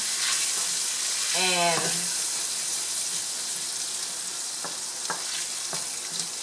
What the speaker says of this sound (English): we are going to start sauteing the aromatics